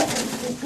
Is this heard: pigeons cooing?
yes